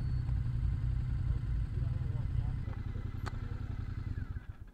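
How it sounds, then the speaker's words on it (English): A motorcycle engine idles close by on a road trip to the Grand Canyon, giving a steady, throbbing low rumble that fades slightly toward the end. "I'm on a motorbike."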